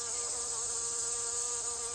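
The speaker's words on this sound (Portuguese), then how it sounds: "Um importante grupo de polinizadores é o das moscas das flores." Flower flies, hoverflies, buzzing steadily in place with a continuous high whining drone close to the microphone, unbroken throughout with no voices.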